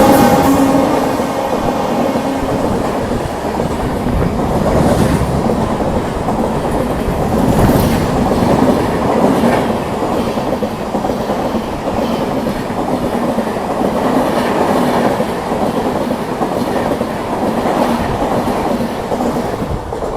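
Madhupur–Anand Vihar Humsafar Express passing on the Kanpur–Delhi line, a continuous loud roar of rolling coaches with rhythmic clickety-clack of wheels over rail joints, close by and steady throughout.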